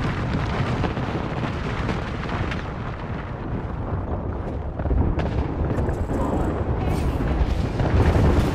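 Continuous rumbling barrage of airstrike explosions in a video game, loud and dense throughout with heavier booms swelling in the second half, no talk over it.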